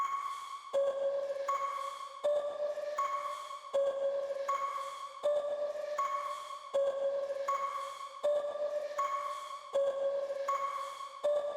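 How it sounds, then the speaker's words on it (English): A bright synthesized bell tone repeats in a steady looping melody, clear and sustained, with no voices. "Next, added this bell right here"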